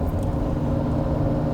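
A Lamborghini Jarama S 2+2 grand tourer's engine pulls steadily while driving under light load, a continuous low rumble heard from inside the car, loud and even, with no talk.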